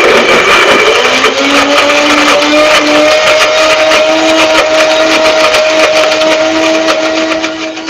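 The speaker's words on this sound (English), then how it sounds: "so we're going to give this a blend" A kitchen blender whirs steadily through caramel pear sauce, a loud continuous motor whine with a slight pitch shift near the start, running alone for several seconds before easing off at the end.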